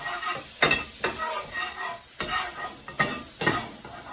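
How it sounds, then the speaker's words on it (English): Butter sizzles in a warm frying pan while wartime pancakes are cooked, a soft crackling hiss broken by several sharp scraping stirs, close by and fairly quiet, with no talking. "the pan is nice and warm and this butter's going to melt really quickly"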